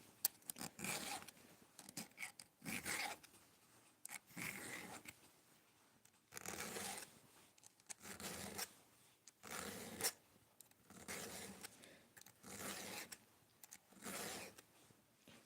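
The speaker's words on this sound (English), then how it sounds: "I hate sharpening with my left hand" Hand sharpening of a blade, done left-handed: rhythmic rasping strokes, about a dozen, each lasting under a second with brief gaps, close and fairly quiet, with no talking.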